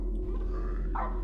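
A dog in a horror video game gives a single short bark near the end, muffled and mid-distance, over a constant low droning hum of game ambience.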